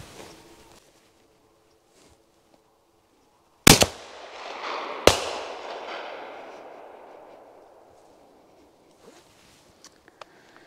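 Two sharp, loud gunshots during a pigeon hunt, about a second and a half apart, each ringing out with a long fading echo across open ground.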